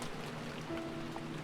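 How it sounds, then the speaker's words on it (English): Wind-driven rain from the Umineko visual novel, a steady, dense hiss of falling water with a faint low tonal hum underneath, continuous and even throughout. "it certainly was a windy rain"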